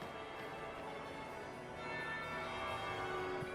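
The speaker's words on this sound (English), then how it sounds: "That would be the second bell." A church bell rings in Dragon Age Inquisition, faint and sustained with a resonant tone behind the quiet game ambience.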